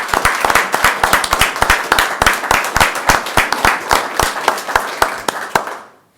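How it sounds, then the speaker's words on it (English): Applause at a county board meeting, a room full of hands clapping at a steady brisk pace, then tapering off and fading out at the end. "let's give these young leaders a round of applause"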